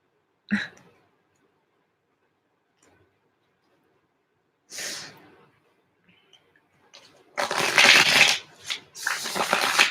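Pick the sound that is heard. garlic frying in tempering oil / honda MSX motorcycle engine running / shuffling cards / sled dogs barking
shuffling cards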